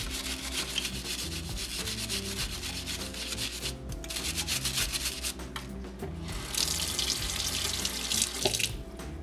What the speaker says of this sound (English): you push it down and it gathers up a lot of that soapy water